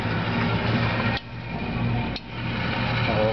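Rotisserie motor running on a quality test bench, giving a steady mechanical hum and whir with two brief dips in level, close and continuous with no voices.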